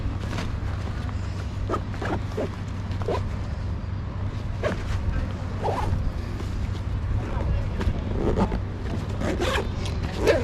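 A zipper on the back of a ruck bag is pulled open in several short rasping strokes, close by, over a steady low hum with some faint background noise.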